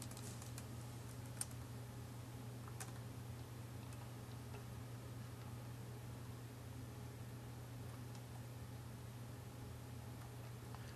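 Computer keyboard typing as code is entered, a quiet run of faint, irregular key clicks over a steady low electrical hum, with no voices.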